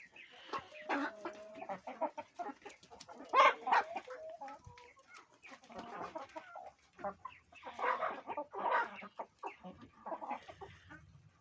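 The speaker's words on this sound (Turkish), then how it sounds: "tavuklarımız da yemi bekliyor" Chickens cluck and chatter continuously, several birds close by with overlapping calls, no talking.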